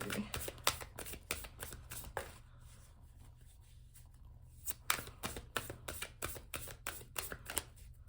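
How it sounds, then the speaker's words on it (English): A deck of tarot cards being shuffled by hand in a series of quick riffling bursts, close and crisp, with a short lull in the middle before the rapid flutters resume; no speech. "All right, I'm gonna go ahead and shuffle once more, and then we will cut."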